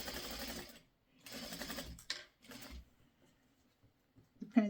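A home sewing machine stitches pieces of quilt fabric in short runs, two longer bursts and a shorter one separated by pauses, fairly close and moderately loud, with a small clunk at the end.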